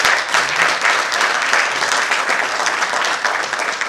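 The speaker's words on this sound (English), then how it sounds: "Can we have a round of applause for the finalists, please?" Loud, sustained applause from a large audience for debate competition finalists, dense clapping continuing evenly throughout with no voices standing out.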